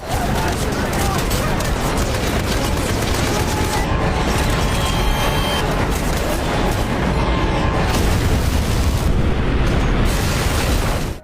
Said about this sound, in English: a few more fighter jets swoop in, strafing his squad up on the mountain.